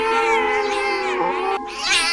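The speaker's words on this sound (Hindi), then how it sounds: "आंख तब खुली जब बिल्ली के गुर्राने की आवाज़ मैंने अपनी चारपाई की सीधी तरफ से महसूस की।" A cat in a horror story makes a tense, drawn-out wailing growl. It is loud and close, with wavering pitch and a brief break before it rises again.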